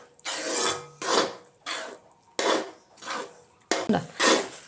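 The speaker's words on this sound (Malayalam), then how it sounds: "നല്ലപോലെ ഇളക്കി കൊടുക്കുക" Kerala jackfruit preserve being stirred in a pan, a series of about seven scraping, rasping strokes in an uneven rhythm, loud and close with short pauses between them.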